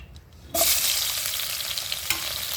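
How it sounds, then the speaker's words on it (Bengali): Onions dropped into hot oil left from frying eggs set off a sudden loud, broad sizzle that stays steady and close, with a brief stir or clink partway through. "এবার এই তেলেতে পেঁয়াজ দিয়ে দেব"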